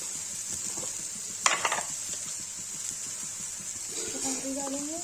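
Potatoes sizzle softly in a frying pan while a utensil clinks and scrapes as they are stirred, with a steady hiss throughout and a short clatter early on; a voice speaks briefly near the end.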